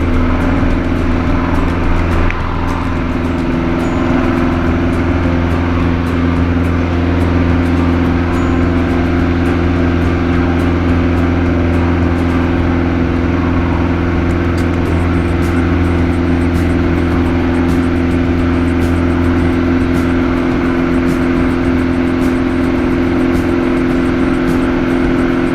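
A light airplane engine drones loudly and steadily on a takeoff roll at Oakland airport, a constant close cabin hum with a strong low tone that holds without break.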